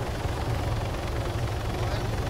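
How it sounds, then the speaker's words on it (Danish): A green helicopter in the Arma 3 video game, its rotor giving a steady, loud, continuous low thumping drone that fills the whole short stretch without a break. "Begynder at komme med ind i den grønne helikopter her."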